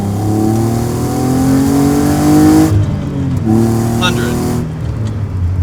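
A Hyundai Genesis 3.8 coupe, 306 horsepower and about 3,500 pounds, accelerates hard from 60 to 100 with a loud rising engine note, a gear change midway, then climbs again.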